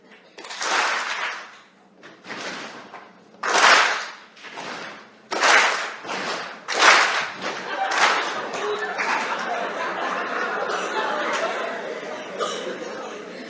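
Classroom of students clapping a beat together, a run of sharp group claps in bursts, then a denser stretch of scattered clapping and chatter, with a teacher's voice between rounds.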